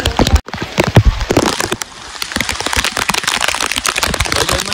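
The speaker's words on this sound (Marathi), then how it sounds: "लय जोरात पाऊस लागला इकडे." Heavy rain drums steadily on a mountain trail on Girnar hill in Gujarat, with wind, a dense close patter of drops filling the whole stretch with no voices.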